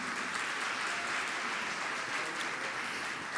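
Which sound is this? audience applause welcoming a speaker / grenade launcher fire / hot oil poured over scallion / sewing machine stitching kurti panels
audience applause welcoming a speaker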